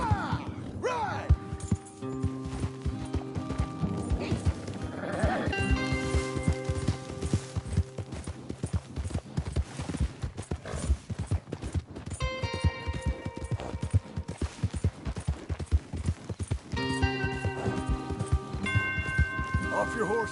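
Horses gallop in Red Dead Redemption 2 on PS4 Slim, a steady dense rush of hoofbeats under game music and voices throughout.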